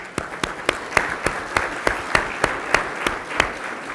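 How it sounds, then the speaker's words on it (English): Audience applause at a luncheon, steady clapping from a crowd filling the room with sharp individual claps standing out, no voices over it. "So give yourselves a round of applause."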